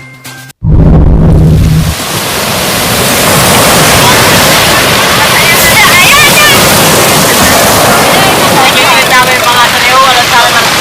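Loud, continuous roar of surf washing ashore at Lingayen Baywalk, a steady broadband rush of breaking water up close with no pauses.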